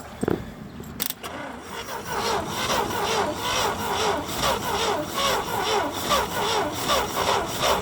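A 1960s International Harvester Scout 80 barn find with fresh gasoline in it cranks over in a steady, fairly loud rhythmic churn that runs for several seconds with no talking.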